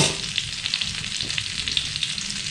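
Sponge gourd (patola) sautéing in a pan, a dense close sizzle with small popping crackles and light stirring throughout.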